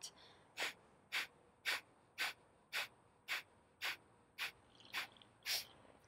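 Forceful Kapalabhati breathing in a yoga flow: eleven sharp, evenly spaced nasal exhalations about half a second apart, close and clear with quiet pauses between.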